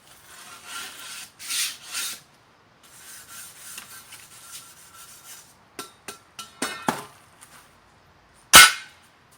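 A scraper works carbon off a smoker grate in bursts of close rasping strokes, with scattered sharp scrapes and one loud clack near the end.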